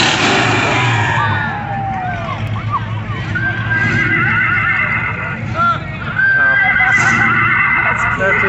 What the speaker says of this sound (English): That's his horn, honey.